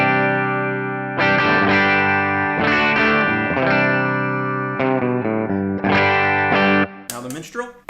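Clean electric guitar played through a humbucker pickup on a Kingsley Jouster amp, sustained chords with ringing overtones changing every second or so, close and full, ending in a short bright flourish; no voice.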